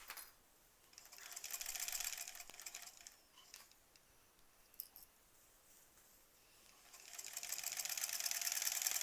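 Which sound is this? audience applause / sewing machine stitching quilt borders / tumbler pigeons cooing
sewing machine stitching quilt borders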